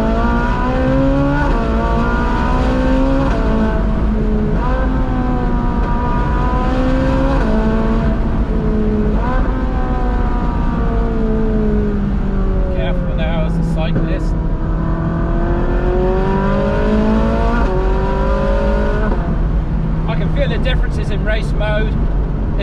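A Ferrari's engine revs in steady cycles from inside the cabin, the pitch climbing then dropping sharply at each gear change, loud and continuous over road rumble, while someone talks throughout.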